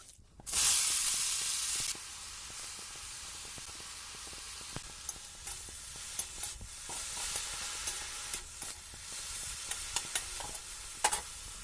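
Food fries in a pan with a loud burst of sizzling at first, settling into a steady hiss broken by scattered clicks and scrapes of stirring.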